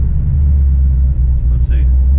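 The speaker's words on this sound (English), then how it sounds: "I'll give it a little rev right here." A ZL1 Camaro fitted with an X-pipe exhaust rumbles loudly up close, a deep steady idle with a brief light rev, voices talking faintly over it.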